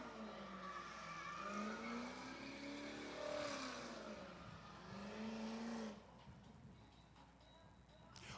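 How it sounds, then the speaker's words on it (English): A drift car holds a long tire burnout at a drift pit test-and-tune day, a loud sustained engine roar with rising and falling pitch for about six seconds, then drops to a quieter idle-like rumble with a faint high whine. "Like a 3-minute burnout session so far."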